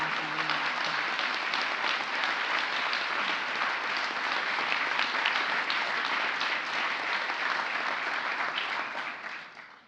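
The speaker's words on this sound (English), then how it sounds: "Please join me in giving a big round of applause to my fellow awardees of the International Women of Courage." A crowd at the International Women of Courage award ceremony at the White House breaks into dense, steady applause lasting nearly ten seconds before quickly tapering off at the end.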